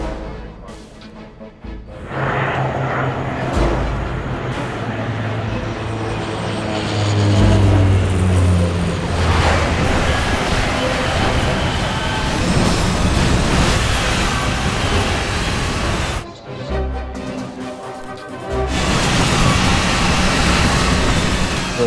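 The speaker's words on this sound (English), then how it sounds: "There was just this loud rumble, screeching sound as we slid down the runway." A loud, sustained rumble with grinding, screeching noise as an airliner slides along a runway on its belly, dragging on for many seconds, briefly easing before surging again.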